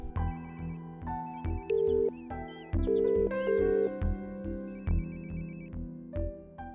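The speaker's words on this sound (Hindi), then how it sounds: "रिंग जा रही है, आज तो मुझे बोल ही दो।" A telephone rings repeatedly in a bright, musical ringtone pattern over a steady backing of music, loud and continuous throughout with no talk.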